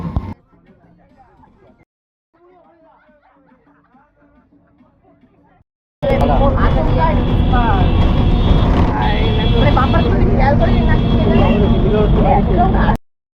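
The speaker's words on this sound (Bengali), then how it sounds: "বাস ছেড়ে দিয়েছে।" A bus pulls away at a village picnic outing, its engine rumbling loud and steady for about seven seconds after a quieter stretch of faint, distant voices.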